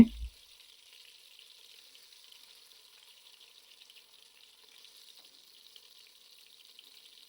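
Eggplant frying in oil over a high flame gives off a faint, steady hiss of sizzling that runs alone after a brief opening knock.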